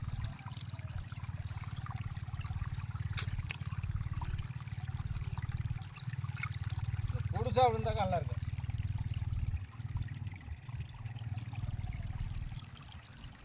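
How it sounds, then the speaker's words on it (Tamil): Water rushes steadily through a stream at a small fishing weir, a continuous low wash running throughout while someone speaks briefly near the middle. "இப்போ தண்ணி ஓடியார மாதிரி இருந்துச்சு"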